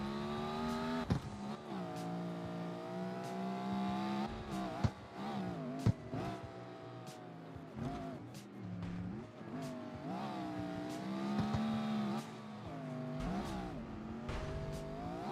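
A Dodge Hellcat's engine roars through a CarX Street street race, revving and shifting repeatedly with rising and falling pitch, loud and close, with brief tire squeals and no talking over it.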